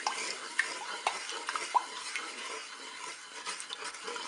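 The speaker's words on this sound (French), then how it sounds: "Je mélange." Panna cotta mixture with sugar and dissolved agar-agar stirred in a Cookeo multicooker pot: soft, steady swishing with a few light clinks of a utensil against the pot, fairly quiet and without speech.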